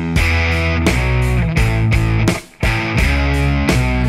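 A distorted electric guitar plays a chugging riff of sustained power chords with short breaks between them, with a duplicated track panned left and right, loud and alone.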